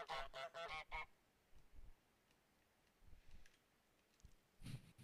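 Cartoonish goose honks from Untitled Goose Game: a quick burst of five loud, nasal honks in a row, then quiet gameplay sounds with a few soft thumps, and a final louder honk near the end.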